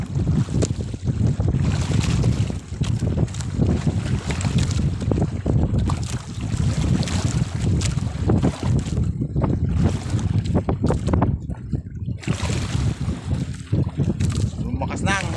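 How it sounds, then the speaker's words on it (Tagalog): Strong wind and waves buffet a fishing boat at sea, a loud, continuous rush of gusts and water that fills the whole stretch, with voices talking now and then underneath. "Naalo na, tsaka sumimi-sumi na rin ang hangin."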